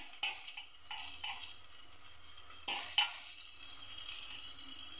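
Tomatoes sautéing in a pan, a soft steady sizzle with intermittent scraping stirs and a few sharp utensil clicks, fairly quiet and without any voice.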